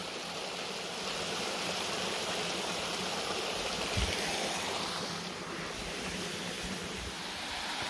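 Small river flowing through stone-lined banks near a Czech castle village, a continuous broadband rushing and gurgling of water, close and steady throughout with no talk.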